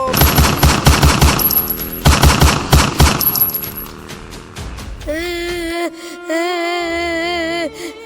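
Gunfire sound effect in a comedy skit, a rapid machine-gun burst of sharp, loud repeated shots that fades out, followed by sustained wavering electronic tones.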